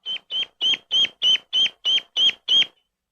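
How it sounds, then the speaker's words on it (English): A duckling in an imprinting study gives a distress call: nine evenly spaced, sharp high peeps in quick succession, close and clear, then silence. "the bird gets its bearings and makes what sounds like a distress call"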